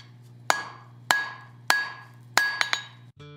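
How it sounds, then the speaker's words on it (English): Sharp ringing metallic strikes of a hammer on hot steel on an anvil while forging tongs, four evenly spaced blows then two quick lighter taps, close and loud with lingering ring. "I'm hitting with the hammer half on, half off to create my first notch."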